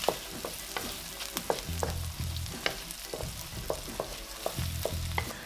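Dried red chillies fry in hot oil for spicy fried rice, with a steady sizzle broken by sharp clacks and scrapes of a spatula stirring the pan up close.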